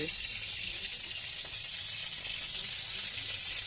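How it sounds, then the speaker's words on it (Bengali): Oil poured into a small kadai hisses and sizzles as it heats, a steady, bright frying wash that holds constant throughout, close and fairly loud. "তেল ঢেলে দিচ্ছে কড়াইতে"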